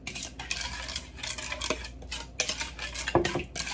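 Glass noodle and shrimp salad being mixed with sauce in a bowl in a Lao home kitchen, a steady wet stirring and light clinking of utensils against the dish, close and continuous with a sharper clack near the end.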